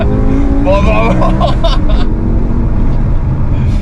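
A loud BMW M5 E60 sports car engine revs and roars steadily, its pitch rising and falling, with a voice briefly audible over it.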